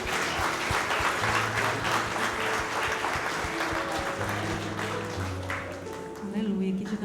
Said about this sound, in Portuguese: Uma salva de palmas para o casal.